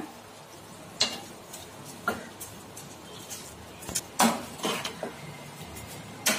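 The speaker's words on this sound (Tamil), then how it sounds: "நல்லா இந்த கிரேவியோட கலந்து விட்டுக்கிடுங்க." A spoon scrapes and clinks against a pot as rice is stirred into biryani gravy, sparse irregular knocks and scrapes over a quiet simmering background, no talking.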